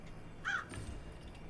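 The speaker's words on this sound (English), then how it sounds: "there's some sort of bird in the in here in the graveyard, Sarah." A single bird caw rings out in a video game graveyard, one short harsh call standing out briefly over low ambient background noise, with no talking.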